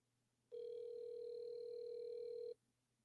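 A single steady electronic ringback tone sounds for about two seconds on an outgoing phone call, then cuts off into faint background hum.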